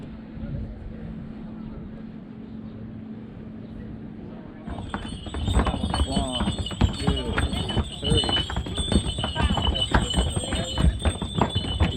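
Steady clip-clop of donkeys' hooves on the stone steps of Santorini, starting partway through and continuing as a rapid, irregular clatter, fairly close, with a bell-like ringing and crowd noise around it.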